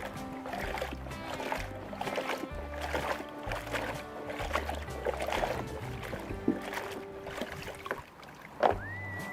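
Carrots from a 10-inch pot washed in a bucket of water, with steady sloshing, dribbling and splashing throughout and a sharper splash near the end.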